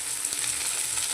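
Chicken pieces land in a pan of frying tomato and onion, giving a steady, close hiss of sizzling oil that holds evenly through the short moment with no voices.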